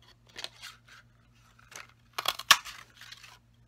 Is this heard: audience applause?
no